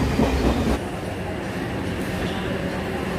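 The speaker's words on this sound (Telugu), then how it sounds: "మళ్ళీ వేరే ట్రైన్ వస్తుంది, మళ్ళీ క్రాసింగ్ పెట్టేయడు." A passenger train on the railway line between Bhimavaram and Nidadavolu, a steady rumble of rolling wagons with faint clickety-clack from the wheels, continuous and fairly loud, close at hand.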